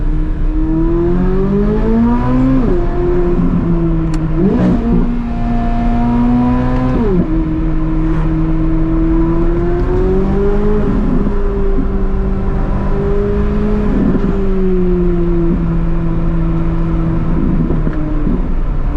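A Chevrolet C8 Corvette Z06 engine on launch control, running on Cup 2R tyres: a loud, close, sustained engine note rising and falling through several pitch swings with sharp revving surges, no voices.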